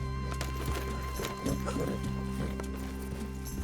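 Horse hooves clip-clop at a walking pace in the video game Red Dead Redemption 2, soft and fairly distant beneath a low steady ambient hum, with a faint whinny-like tone mixed in.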